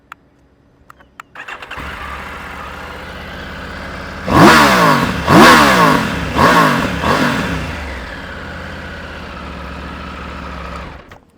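A Triumph Tiger 900 GT Pro motorcycle with its standard exhaust cranks and starts, settles into an idle, then revs sharply three or four times before dropping back to a steady idle.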